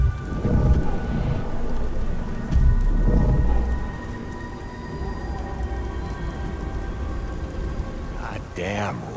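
Rain and thunder in the video game Beyond: Two Souls: steady rainfall under two deep rumbling thunder swells early on, then softer rain, with a brief voice near the end.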